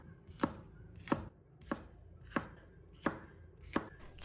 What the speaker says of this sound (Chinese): 然后把辣椒子去掉，再切成小块